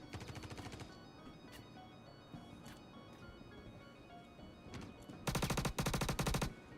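Rapid bursts of video game gunfire, a loud rattling volley at the start and a heavier, denser automatic burst near the end, with scattered single shots and game ambience between.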